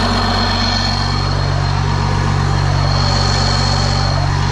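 Loud 12 valve Cummins diesel engine running close by, a dense, steady low rumble with a raspy exhaust roar that holds continuously without pause.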